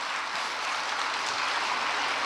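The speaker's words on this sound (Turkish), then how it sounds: "Yok öyle çok alkış da olmasın." An audience applauds after a poetry reading at a book fair talk, a dense, steady wash of clapping hands filling the room without a break.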